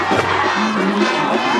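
A home crowd at a Howe Bulldogs vs Hughes Springs Mustangs high school football area championship game cheers and shouts together, a loud, continuous roar of voices with raised yells rising out of the mass.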